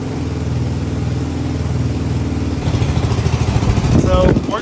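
Honda 400EX engine swapped into a Polaris RZR 170, running rough on its first heat cycle before carburetor tuning, a steady close chugging idle that revs up louder near the end.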